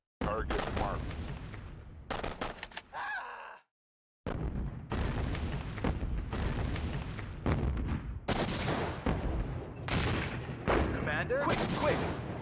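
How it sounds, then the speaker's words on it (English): Artillery fire in the real-time strategy game Sudden Strike 2, British campaign at Oosterbeek: dense, loud booms and rattling gunfire in near-continuous volleys, broken by one short silent gap, with voices occasionally in the mix. "Artillery ready. Target marked."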